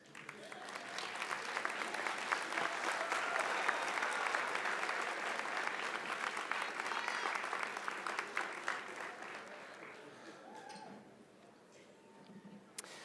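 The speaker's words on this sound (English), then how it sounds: "Let's give them a round of applause." Graduates at a university winter commencement applaud their parents and families, a broad, sustained round of clapping from a large crowd that swells, holds, then thins out and fades toward the end.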